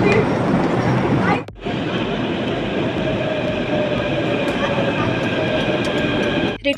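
A Delhi metro train bound for Rithala roars steadily from inside the carriage, with a constant wheel rumble and hiss that briefly drops away twice.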